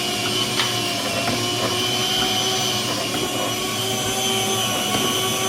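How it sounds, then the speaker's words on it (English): Electric food slicing machine set to half-inch slices cutting eggplant, a loud continuous motor whine with a steady hum throughout, close and uninterrupted. "I bought this slicing machine"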